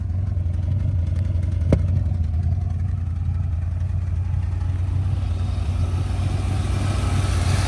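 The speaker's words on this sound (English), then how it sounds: "Sitting there idling, holy crap." A Plymouth SUV engine idles with a broken-off exhaust, a deep, steady rumble and rapid clatter, loud and close, with no talking.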